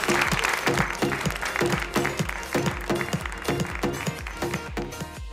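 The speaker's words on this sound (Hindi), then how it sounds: "जोरदार तालियां हो जाए फॉर भोला प्रसाद जी।" A textile fair audience gives a guest loud, rhythmic applause, with claps landing in a fairly regular beat that fades slightly toward the end, close and full.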